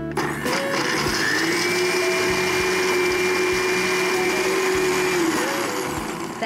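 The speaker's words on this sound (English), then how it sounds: "I'm gonna add the cashew nuts to the same blender." A blender grinding cashew nuts runs loud and steady, a continuous whirring grind with a sustained hum, starting up and winding down at the ends.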